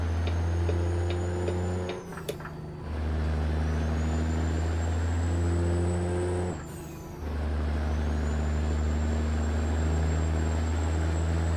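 Simulated Kenworth W900 truck in American Truck Simulator, a steady low diesel engine drone with hissing air-brake releases around two and seven seconds, heard alone without talk.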